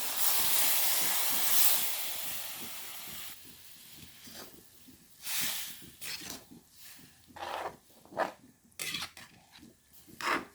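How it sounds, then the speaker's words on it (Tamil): A pot of vaddukkai curry with tamarind and coconut milk bubbles and hisses steadily, with bursts of sizzling and popping surging and fading in irregular waves. "வட்டுக்காய் குழம்பு கொதித்து கொண்டிருக்குது"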